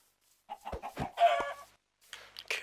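Minecraft chicken clucking in the video game, a few short clipped clucks and squawks in quick succession, fairly close and clear with brief silent gaps between them.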